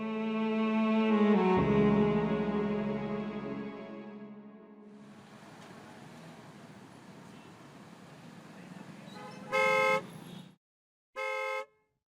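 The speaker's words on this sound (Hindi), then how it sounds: "वो कब से हॉर्न दे रहा है" Two short, loud car horn blasts sound near the end, each about a second long and separated by a brief gap, following a stretch of steady droning tones and muffled background noise.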